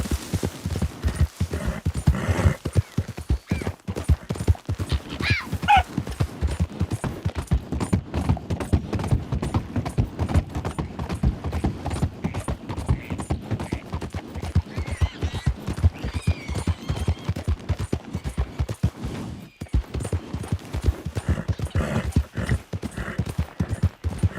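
Horse hooves clip-clop at a steady galloping rhythm, close and continuous, in the Red Dead Online video game, with a brief whinny early on and no talk.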